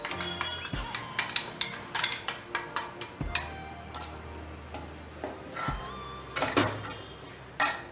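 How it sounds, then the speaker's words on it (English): Spoon scraping and clinking against a bowl or jar while blended spice powder is mixed into lemon pickle, a run of close, sharp metallic taps with short pauses, no talking. "then we can add the blended powder. We need to mix well."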